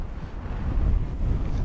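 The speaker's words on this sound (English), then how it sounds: "Really windy up here." Strong wind buffets the microphone on an exposed hilltop in the Cheviots, a steady low roaring rumble that swells slightly and stays loud throughout with no voices.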